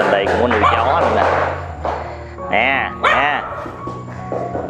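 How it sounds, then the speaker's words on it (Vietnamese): A dog living aboard a river boat in Bến Tre gives several close, high yips and whiny barks in quick bursts, over a low steady hum. "Trên đây cũng có nuôi chó luôn nè."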